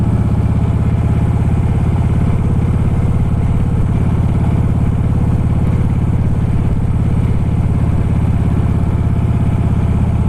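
A motorcycle engine runs steadily and loud throughout as the rider drops a gear while crossing railway tracks, a constant close rumble with no talk.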